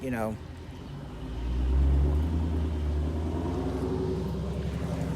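A classic car rolls in to park nearby, its deep engine rumble swelling after a brief whine and holding steady as it creeps forward, loud and close with a voice speaking over it.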